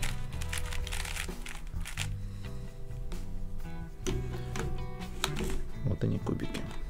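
Quick plastic clicks and clattering twists of Rubik's 4x4 cubes being scrambled repeat steadily up close, with a low musical hum running underneath.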